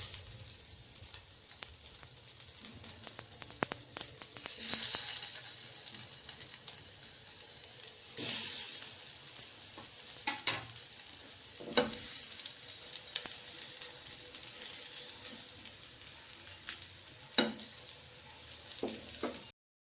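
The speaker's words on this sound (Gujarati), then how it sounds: "તો હવે કટલેસને તળી લેશું." Bottle gourd cutlets shallow frying in about two spoonfuls of hot oil on a griddle, a soft continuous sizzle with brief louder crackling bursts as pieces are placed or moved, fairly quiet and close.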